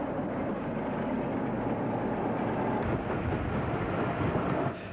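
A British Rail Class 47 diesel locomotive on an archive film soundtrack, giving a steady, loud, broadband engine and rail rumble that holds evenly throughout, with no voices.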